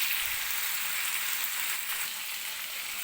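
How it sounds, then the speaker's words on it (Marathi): Stuffed ridge gourd frying under a lid in a covered wok gives a steady, close, even sizzle and crackle that holds at one level with no pauses, and nobody speaks. "कढईवरती झाकण ठेवून 1-2-3 मिनिटं दोडका छान असा वाफलून घेऊया"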